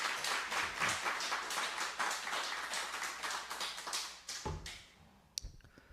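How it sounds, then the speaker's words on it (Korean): A church congregation at a Sunday worship service claps in a quiet, steady round of applause that fades out after about four seconds, followed by a couple of faint knocks and room noise. "그 가정을 위해서 박수 한번 부탁드리겠습니다."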